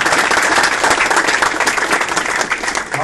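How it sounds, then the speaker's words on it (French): Audience applause at a Sassenage town sports trophy ceremony honoring the 2012 athletes of the year, a loud, dense, sustained clapping from a hall crowd at a steady level. "on peut l'applaudir pour ça"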